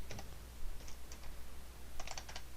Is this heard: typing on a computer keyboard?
yes